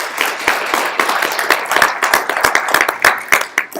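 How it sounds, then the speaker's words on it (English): An audience at a candidate forum in Lamesa, Texas claps steadily and up close, a lively patter of many hands sustained throughout. "Please give yourselves a round of applause for that."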